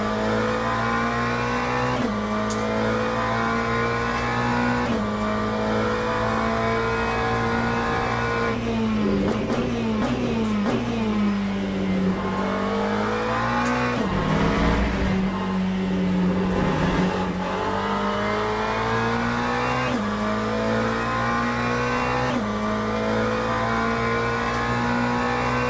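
GT race cars, a Porsche among them, in the Le Mans Ultimate racing game hold a steady, sustained engine drone that rises and dips as revs change, with a brief burst of accelerating and shifting near the middle.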